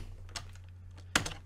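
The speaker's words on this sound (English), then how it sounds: "So start typing card." Keys tapped on a computer keyboard while renaming a file in a tabletop card-graphics project: a few soft, scattered clicks followed by one sharper keystroke near the end, close and quiet over a low hum.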